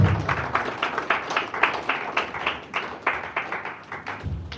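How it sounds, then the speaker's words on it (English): An audience at a Port Harcourt Chamber of Commerce gathering gives a round of applause for a past chamber president, steady moderate clapping that carries on evenly before cutting off. "Please, a round of applause"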